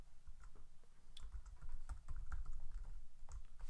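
Rapid, uneven keystrokes on a computer keyboard as a login is typed, close and fairly steady, with clusters of clicks over a low background hum.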